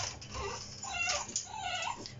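A French bulldog whimpers and whines close by in a home kitchen, a short run of high, wavering cries lasting about two seconds.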